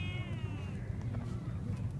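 A pet cat meows with a high, drawn-out, falling call at the start, heard up close over a low background hum, and the rest of the clip carries only faint ambient noise.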